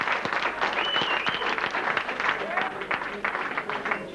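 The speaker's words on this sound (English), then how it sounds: "Could I have a round of applause, please?" Audience clapping after a boxing contest, a short burst of mid-level applause from a crowd in a hall, with voices mixed in.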